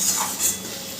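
Drumstick leaves (sojne shak) being stirred in a pan over a raised gas flame, a short burst of soft scraping and light clinks with faint sizzling, close and alone.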